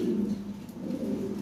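A pair of Lahore pigeons of the European type coo in low, soft, rolling tones, a steady murmuring call held close by with no talk.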